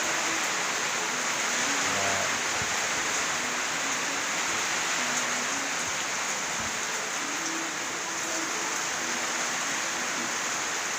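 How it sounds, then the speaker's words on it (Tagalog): Heavy rain pours down in a dense, steady roar, loud and unbroken, with drops drumming on nearby surfaces. "Ulan."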